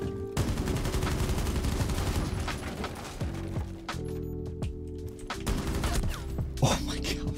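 Rapid automatic gunfire from a weapon in Rainbow Six Siege, loud sustained bursts with brief pauses and mechanical clatter, fired close to the listener.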